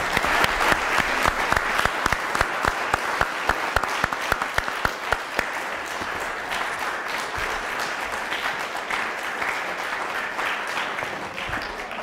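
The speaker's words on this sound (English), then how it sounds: "let's give both of these candidates a round of applause" An audience gives two candidates a steady round of applause, dense clapping at moderate volume, sharper near claps early that thin into a softer wash, with almost no voices.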